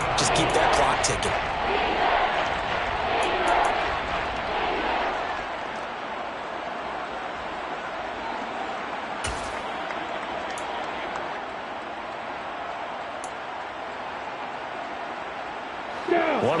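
Video game crowd in Madden 23 football rises into a steady roar ahead of a big third down, loud at first and then easing to a sustained hum, with commentary over it.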